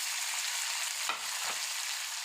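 Crushed ginger, garlic and curry leaves sauté in hot oil with a steady, close sizzle, broken by a couple of brief stirring scrapes.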